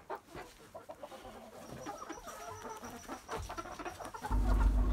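Laying hens cluck in scattered, overlapping bursts at close range, with a steady background noise that swells into a loud low rumble near the end.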